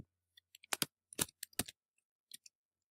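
Quiet, sparse clicks from a computer keyboard, with a few single and double keystrokes tapped in short, irregular bursts and separated by brief silences.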